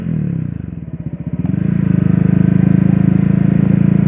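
A 2019 Honda CB Twister motorcycle engine runs close and loud, stuttering through a gear change before settling into a steady, even drone at constant revs.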